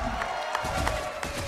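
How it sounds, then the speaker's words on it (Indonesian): Live crowd at an MPL Indonesia Mobile Legends esports match between EVOS Legends and Aura Fire, a continuous wash of cheering and clapping from a large arena audience, with faint voices underneath. "Aura Fire EVOS Legends, mana tepuk tangannya?"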